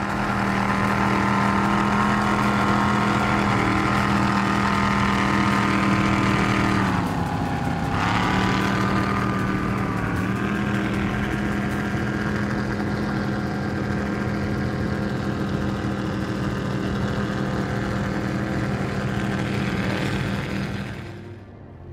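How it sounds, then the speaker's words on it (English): A powerboat with bored-out 525 engines, Stage 2 Whipple superchargers and IMCO SCX drives runs at a Key West poker run, giving a loud, sustained engine roar that dips in pitch briefly partway through and fades at the end. "These are bored out 525s, now pushing 820 horsepower aside with Stage 2 Whipples and IMCO SCX drives."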